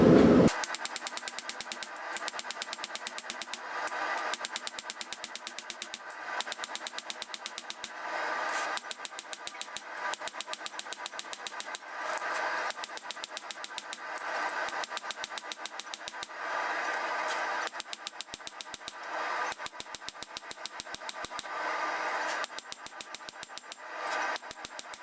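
Steady metallic hammering of hot steel on a blacksmith's forge work, rapid ringing blows repeated in bursts close by, with bright high-pitched rings over each strike and no talking.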